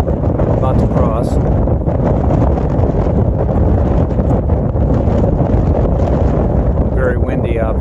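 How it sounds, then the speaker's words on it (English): Strong wind roars and buffets the microphone continuously at the Twin Lakes dam in Colorado, a loud, dense rushing that never lets up. "Very windy, obviously."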